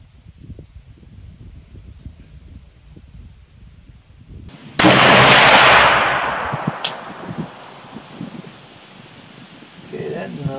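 A SOCOM Mk 12 rifle fires a single loud, sharp shot at a target, its report trailing off in a long echoing decay after a stretch of quiet outdoor background.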